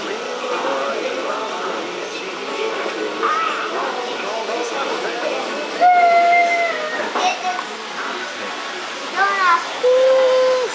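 A TOMIX N-gauge 211 series model train runs along its track, a soft steady rolling hum with a few brief higher squeals, while people talk quietly nearby.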